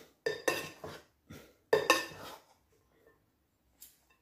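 A utensil clinks and scrapes against a bowl while vegetable okoy batter of squash and carrot is mixed, a few close, sharp bursts of stirring separated by short pauses, then quiet.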